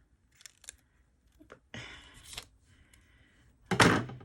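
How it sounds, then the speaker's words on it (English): Dull scissors snip through a small piece of heat-sublimation tape at a craft table, giving a few quiet crunchy cuts, then a louder closing snip near the end. "Dull scissors."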